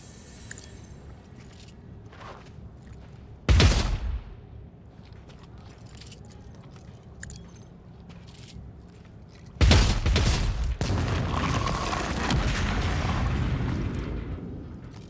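Gunfire in Warhammer 40K: Dark Heresy, two loud bursts of shots and booms, a short one then a longer sustained volley, over quiet game ambience with scattered clicks.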